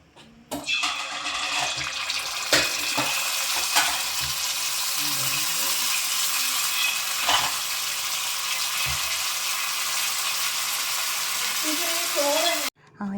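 Unniyappam batter studded with coconut bits poured into hot ghee, a steady broadband sizzle and crackle running continuously and fairly loud from start to finish, with occasional faint clinks and a brief voice near the end.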